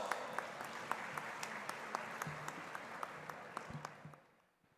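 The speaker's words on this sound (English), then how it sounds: "welcome with a huge round of applause" An auditorium audience applauds a chief guest, a former Vice President of India, at a student parliament. Steady, moderately distant clapping with sharper individual claps on top fades out toward the end.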